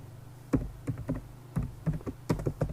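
Keys on a computer keyboard are tapped while an SQL query is typed: irregular bursts of close, clicky keystrokes with short pauses between words, and no talking.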